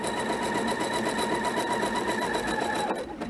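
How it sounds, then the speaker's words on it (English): Sewing machine running a zigzag stitch in white all-purpose thread on ribbon crazy-patch work, a steady close mechanical whir with rapid even needle ticking that stops near the end. "On here I just have my white all-purpose thread so you can see how I'm zigzagging."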